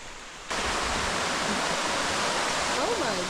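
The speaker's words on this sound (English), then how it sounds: "That's a tall waterfall." A tall, high-dropping waterfall on a camping and hiking trip roars as steady broadband rushing water from half a second in, loud and continuous, with a person briefly exclaiming near the end.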